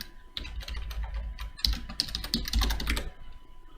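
Fast, close keystrokes on a computer keyboard entering a password for an Elasticsearch certificate file, tapping in irregular clusters with a brief pause partway through, alone without speech.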